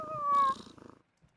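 A cat meows once in a video game, a clear close tonal meow that trails off into a soft rumble and then quiet.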